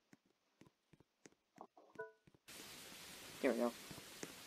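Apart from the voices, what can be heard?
rain turned on in Roblox game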